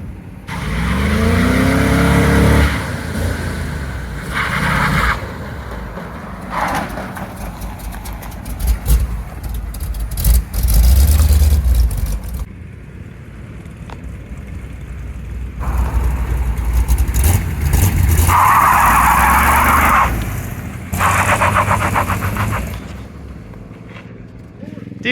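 A Chevrolet C10 truck with its exhaust cutouts open barks through repeated loud revs and hard accelerations, with brief lulls between bursts and voices talking nearby.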